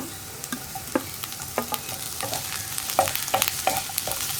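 Tomatoes tossed into onions sautéing in a pan for a chana curry, steady close sizzling with repeated scraping and clacking stirs throughout, no talk.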